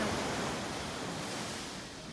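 Ocean waves at Coco Beach in Dar es Salaam, Tanzania, wash ashore in a soft, steady surf hiss that eases slightly toward the end, with no voices.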